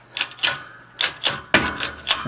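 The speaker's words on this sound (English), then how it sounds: "there we go, pressing that race out." A shop press pushes a bearing race out of a trailer hub, giving a series of sharp metallic clicks and cracks in uneven bursts, close and fairly loud, with no talk over them.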